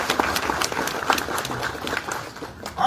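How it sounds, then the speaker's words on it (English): Audience applause for the mayor at the grand opening of the ATL Community Media Channel 24 studio in Atlanta, Georgia, with a steady wash of clapping that holds for about three seconds and swells slightly at the end. "let's give a round of applause for this mayor who took this"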